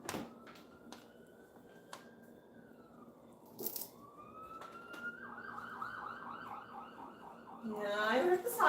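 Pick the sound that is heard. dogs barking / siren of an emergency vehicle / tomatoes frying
siren of an emergency vehicle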